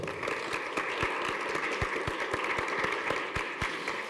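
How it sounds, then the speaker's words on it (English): Audience at a community college honors ceremony applauds for a dean, a fairly faint, steady patter of clapping with a few sharper individual claps standing out. "So I would like to give a big round of applause to Dean"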